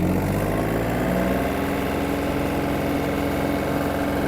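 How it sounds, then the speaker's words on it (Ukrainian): A Yanmar FX-255 Japanese mini tractor's small engine drones steadily and loudly, close by, its pitch rising slightly as it gains speed. "І трактор вже їде пошвидше."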